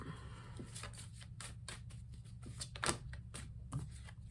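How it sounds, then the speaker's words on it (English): Tarot cards are shuffled close by in a quiet room, giving a run of soft, irregular papery riffles and flicks over several seconds. "Okay, let's do a shuffle."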